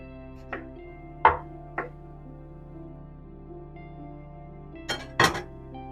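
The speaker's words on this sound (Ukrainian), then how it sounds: "Тим часом буду різати цибульку і підсмажувати до прозорого" A knife chops onion on a kitchen board with a handful of sharp, irregular knocks, two near the start and a close pair near the end, over a low steady hum.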